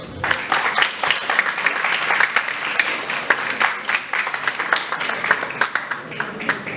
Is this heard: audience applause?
yes